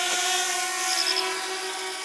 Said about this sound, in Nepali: मलाई ड्रोन उडाउन सिकाइरहेछ